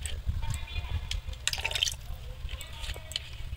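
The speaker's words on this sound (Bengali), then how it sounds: "এর মধ্যে অল্প একটু গোলাপ জল, কেওড়া জল দিয়ে দেব।" A splash of rose water and kewra water poured into a biryani pot, soft trickling and dripping liquid over a low background rumble, fairly quiet and close.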